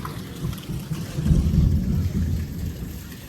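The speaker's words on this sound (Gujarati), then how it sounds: "થોડો વરસાદ જો હાવ ધીરો પડી ગયો" Steady rain falls with a low, rumbling wash, like a heavy outdoor downpour, continuous throughout without any voices.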